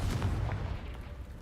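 A Confringo fire spell blast in the Hogwarts Legacy video game, a loud low booming burst with a brief crackling fiery tail, heard alone without talk.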